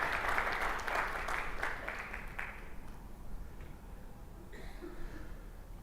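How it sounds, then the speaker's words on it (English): A conference audience applauds the speakers and organizing committee at the close of a Linux Foundation keynote, with a dense wash of clapping from a distance that is strongest at first and then fades gradually. "can we have a big round of applause for our speakers and the Linux Foundation organizing committee?"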